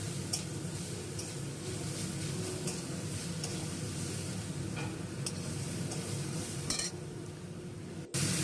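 Ghugni masala being stirred in a frying pan, a low steady sizzle with light scraping and faint utensil taps, fairly quiet under background music, ending with a brief cut.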